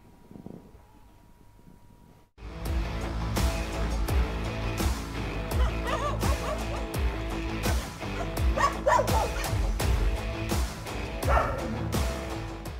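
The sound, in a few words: stray dogs barking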